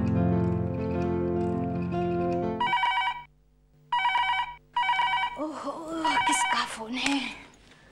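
Telephone bell ringing in a TV drama scene, an electronic ring tone sounding in repeated bursts with short gaps, following a sustained musical tone, then voices speaking over faint background as the call connects.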